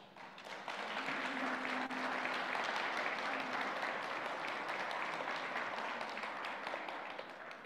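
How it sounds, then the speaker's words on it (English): Church congregation applauding during a combined Sunday service, a steady, dense wash of many hands clapping that fills the room at close range for several seconds and then eases slightly at the end. "Would you like to all just turn around and we can receive you with applause?"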